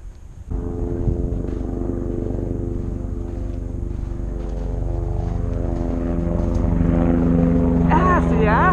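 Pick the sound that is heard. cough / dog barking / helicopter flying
helicopter flying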